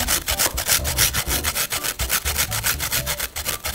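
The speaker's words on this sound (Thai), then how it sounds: "พอมาขูดปุ๊บเขาก็จะออกมาเป็นแบบเหมือนเป็นเกล็ดหิมะ" Frozen watermelon ice being scraped into snow-like flakes for bingsu, a fast rhythmic rasping of steady back-and-forth strokes, loud and close with no talking.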